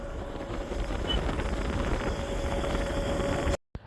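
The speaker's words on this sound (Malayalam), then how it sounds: "ഒരുപാട് കാറ്റാണ് നമ്മൾ ബൈക്കിൽ പോകുമ്പോൾ തന്നെ നമുക്കത് ഫീൽ ചെയ്യും" Strong wind rushes steadily over a motorbike rider on the road toward Hampi, with buffeting and a faint engine hum underneath, cutting off abruptly at the end.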